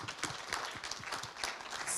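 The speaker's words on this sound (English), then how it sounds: "And can we give them a round of applause?" An audience applauds, a soft spread of clapping from many hands, steady and somewhat distant for a couple of seconds.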